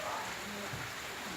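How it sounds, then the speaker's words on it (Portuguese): Rain falling in the countryside, a steady soft hiss of drops on surfaces, heard close and continuous for a brief moment. "Chuvinha é bom, né?"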